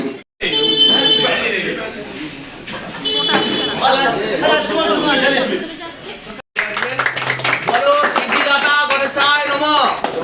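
A crowd at a warm public welcome for minister Bankim Chandra Hajra on his 76th birthday in Rudranagar claps in sustained bursts, mixed with cheering voices and loud amplified announcements over the applause.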